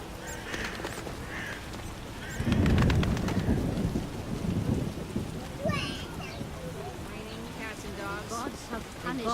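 A thunderstorm in The Witcher video game: steady rain hiss with a heavy rumbling thunder roll building partway through, fairly loud, while someone talks over it.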